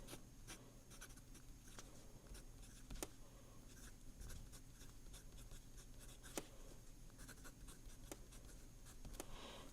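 An Asvine C80 fountain pen writes on paper, a faint close scratching and gliding with small ticks as the nib strokes and lifts, quiet and continuous with no talking.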